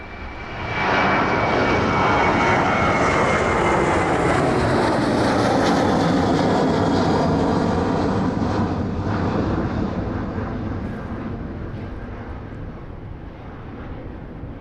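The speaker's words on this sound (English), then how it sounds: "There we go, that Ryanair service to Palma." A Ryanair airliner bound for Palma takes off from runway 27 at East Midlands Airport, a loud, sustained jet engine roar that swells within the first second and then slowly fades as the aircraft climbs away.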